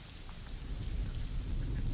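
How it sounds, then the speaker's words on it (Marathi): Heavy monsoon rain pours steadily on the Mumbai–Nashik expressway, a dense continuous hiss with a low rumble beneath and no voices. "एक तर मुसळधार पाऊस आहे"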